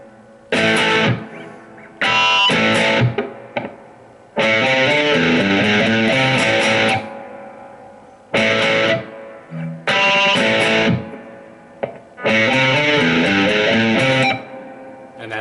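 An electric guitar plays a riff through heavy distortion. The riff comes in loud, chugging bursts separated by short silences, and the guitar plays alone.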